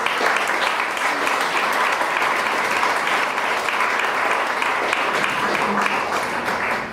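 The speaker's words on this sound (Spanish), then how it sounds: "denle una ofrenda de palmas al Señor" A church congregation claps together in sustained, dense applause filling the room at steady loudness for the whole stretch, with no speech over it.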